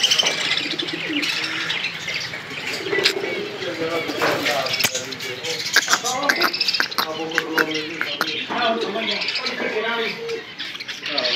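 Caged parrots chirp and coo in short, scattered calls against a busy backdrop, while someone talks over them for much of the time.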